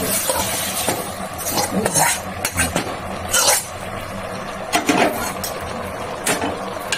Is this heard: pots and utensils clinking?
yes